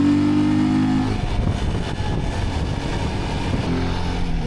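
Trail motorcycle engine accelerating on a dusty off-road track, a loud, close, continuous roar with strong low harmonics that rises and holds steady throughout.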